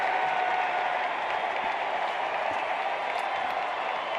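Baseball fans in a stadium give a sustained cheer and applause, a broad steady crowd roar at moderate distance with no commentary over it.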